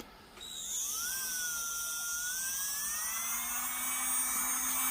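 An I Gel Beauty nail e-file switches on and spins up in reverse, a high, steady whine with rising pitch that settles into a continuous close buzz.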